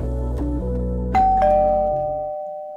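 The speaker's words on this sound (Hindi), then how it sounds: "दरवाजे की घंटी बजी" A doorbell chimes a ding-dong tune, loud and close, and the last tone rings out and fades. No one speaks.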